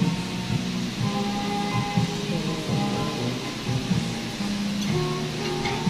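Steady rain falls outside a lugaw restaurant on a wet day, a continuous close hiss of drops with faint low rumbles under it.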